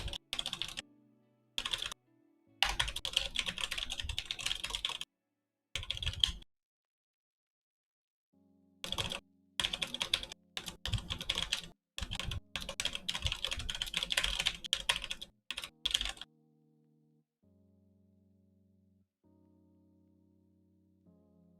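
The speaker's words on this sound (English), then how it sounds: "as I'm typing this" Someone types on a computer keyboard during a live futures day-trading stream, in close, rapid bursts of keystrokes separated by short silences, ending in a faint steady tone with no speech.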